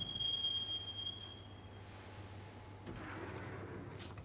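A train in the video game Max Payne rumbles along the rails with a steady low drone, a thin high squeal fading out early and a faint rattle building later, with no voices.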